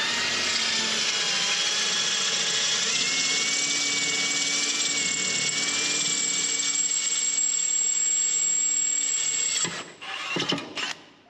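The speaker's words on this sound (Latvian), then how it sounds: "Izurbināsim ar 8 līdz galam, tad urbināsim ar 10 un griezīsim iekšā 12 mm vītnīti sensoram." A power drill bores a hole with an 8 mm bit for a sensor fitting, giving a steady, high whining motor drone that runs for about ten seconds before it sputters, stops and starts briefly, close-up with no talking.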